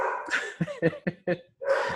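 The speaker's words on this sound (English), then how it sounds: "if y'all can hear Riley, we have a dog here" A pet dog barks and yips in a short burst of four or five quick, fairly close barks, followed by a whiny vocal sound, heard indoors at modest volume.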